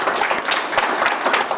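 Steady applause from a studio audience on a Turkish entertainment broadcast, dense and continuous clapping with no talk for the whole moment.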